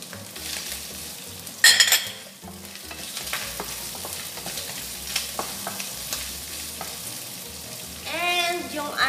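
Green onions being stir-fried into bacon and vegetable fried rice, with steady close sizzling and repeated scraping strokes of a spatula against the pan, a sharp clatter near the start and a brief high tonal sound near the end.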